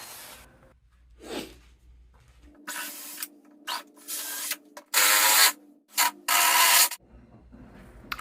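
A wooden workbench leg vise with an oak dowel is worked open and closed, giving several loud rubbing, scraping bursts of wood sliding on wood, separated by short pauses.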